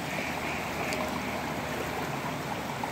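Rainwater about two inches deep rushes steadily past in a broad, continuous flow, loud and unbroken.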